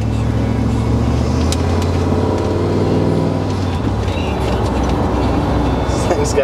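A 1978 Ford F250 4x4 pickup with a 460 V8 slows from about 30 mph to a stop, its loud cabin engine drone falling steadily in pitch over several seconds, under road noise and rattles.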